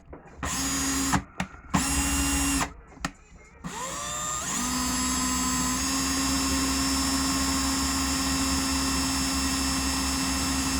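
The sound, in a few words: cordless drill running in reverse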